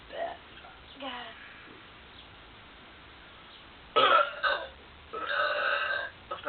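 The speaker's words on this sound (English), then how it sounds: "Can you try burping?" Person burping in a few short throaty bursts near the end, with quiet pauses and faint background noise before them.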